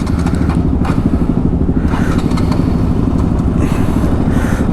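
A motorcycle engine runs loud and close as a bike sets off on a road ride from Ghaziabad toward Rishikesh, with a steady low rumble and some clatter throughout.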